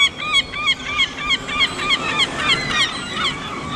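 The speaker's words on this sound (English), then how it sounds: "All these birds." A flock of geese honks repeatedly outdoors, with many overlapping calls in a steady, fairly loud chorus lasting several seconds.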